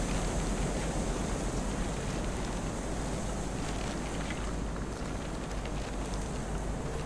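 Wind blowing through the haunted forest of the horror game Kholat, a constant dense airy roar at even strength throughout, with no voices over it.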